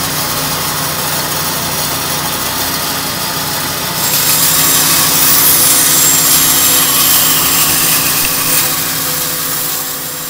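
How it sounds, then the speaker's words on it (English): A bandsaw rough-cuts a guitar body from a wooden blank, giving a steady, loud mechanical hum with a hissing cutting noise that grows noticeably stronger partway through and continues without any talking. "cut away at the body using the bandsaw"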